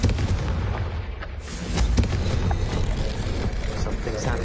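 Confringo fire spell bursting in the Hogwarts Legacy video game, a dense, loud explosive blast that rumbles on continuously with booming low-end impacts throughout.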